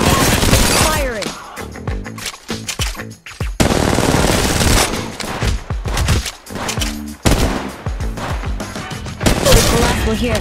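Rapid, loud automatic gunfire from an Apex Legends Mobile match, dense bursts and repeated volleys crowding the whole stretch, with a voice talking over the shooting at points.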